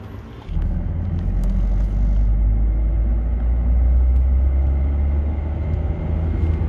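Car engine with an unstable, fluctuating idle, a loud, close, continuous low rumble that steps up after a brief start and holds with slight wavering.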